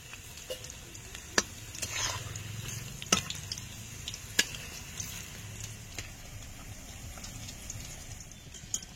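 Chicken pieces for chili chicken fry in a pan with a faint, steady sizzle, broken by occasional sharp spatters and clicks of stirring, fairly quiet and without speech.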